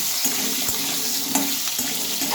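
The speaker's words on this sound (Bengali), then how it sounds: "আলুগুলো এখন হালকা করে আমি ভেজে নেব ঠিক এইভাবে" Small cut potatoes fry in hot oil with a loud, dense, continuous sizzle, broken by brief stirring clicks and no talking.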